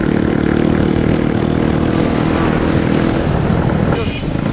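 A motorbike engine runs continuously and loudly close to the microphone, a steady mid-pitched drone with slight variation in speed, filling the whole stretch.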